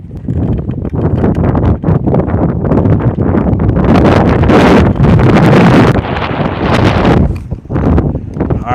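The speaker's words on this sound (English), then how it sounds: "We're back in the wind again." Wind buffeting a boat and microphone while bass fishing in spring, loud, gusty roaring surges that rise and fall close up, with no talking.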